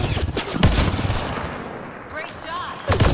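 Gunfire in Mass Effect Andromeda comes as loud, rapid bursts of shots mixed with explosive blasts. A voice briefly cuts in during the firefight.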